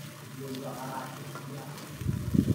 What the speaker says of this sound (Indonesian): Setelah itu kita tumis sampai wangi.